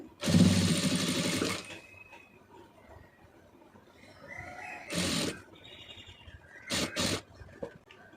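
A sewing machine stitches a fold of cloth in a loud burst at the start, then runs again in two shorter runs later, with a person talking quietly in between.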